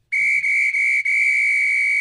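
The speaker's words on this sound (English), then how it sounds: "You hear the referee whistle, which will sound like this." A referee's whistle blows one long, loud, steady shrill blast with a couple of slight breaks, sounding alone.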